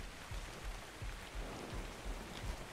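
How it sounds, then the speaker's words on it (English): Steady rain falling in the survival game ARK Scorched Earth, a soft even hiss with faint low patters throughout, quiet and continuous with no voices. "It says it's raining, but I can't get any water."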